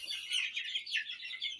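High-pitched peeping chirps from young chicks, several overlapping calls in quick succession, fairly soft and close.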